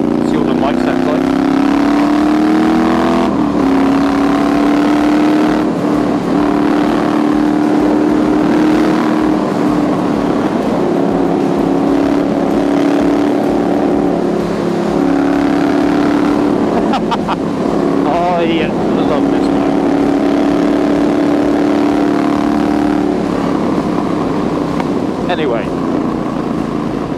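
Thornton Hundred wide wheel bobber motorcycle with a custom exhaust, riding along with a loud, steady engine drone that rises and falls with throttle, mixed with rushing wind buffeting the microphone throughout.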